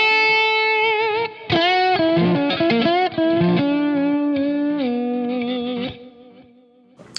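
An electric guitar plays a sustained melodic solo drenched in plate reverb and echoing delay, loud and alone, with bent and held notes that ring out and fade at the end.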